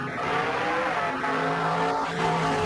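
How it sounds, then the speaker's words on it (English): A car drives past with engine tones sliding in pitch as it approaches and recedes, a loud continuous roar lasting a few seconds. "A car moving towards me sounds high-pitched."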